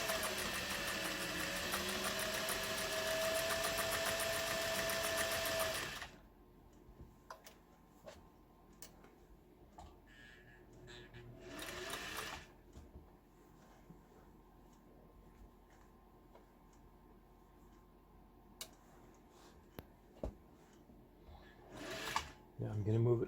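A Singer 401A sewing machine stitches fabric on a longer stitch setting, whirring loudly and steadily for several seconds before stopping, followed by a quiet stretch with scattered faint clicks and handling noises.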